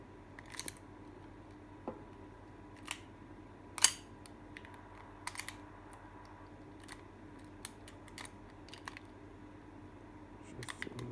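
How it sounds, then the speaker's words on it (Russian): Gun bolt being racked and worked, a series of faint sharp metallic clicks and snaps spaced irregularly over quiet room tone. "Затвор у него передергивается."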